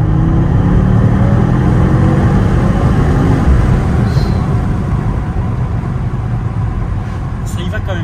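A powerful, torquey sporty car accelerating hard on a rain-soaked road, the engine droning loud and steady from inside the cabin, with a wet rushing hiss of tyres and no talking.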